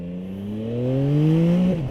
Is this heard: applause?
no